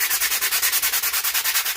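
Wood being sanded by hand in a woodworking shop, a steady rhythmic back-and-forth rasp of about eight quick strokes per second, close and loud with no voices.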